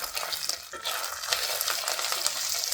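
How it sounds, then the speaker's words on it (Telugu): Ginger garlic paste frying in a pan for biryani, a steady close sizzle with stirring scrapes running throughout, no voices. "ఇప్పుడు అల్లం పచ్చివాసన పోయేదాకా ఫ్రై చేసుకుందాం"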